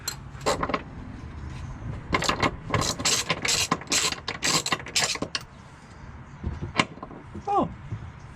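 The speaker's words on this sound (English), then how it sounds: "If I jacked up the trans, if I'm gonna remove the trans mount." A jack is pumped under a 1986 car to raise the transmission, with clustered ratcheting clicks in repeated bursts up close. Someone talks briefly between them.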